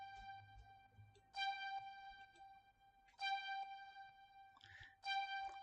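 Bright synth sample in an Ableton Live groove techno track, sounding as sustained harmonic stabs in three bursts over a faint low background, with no voices.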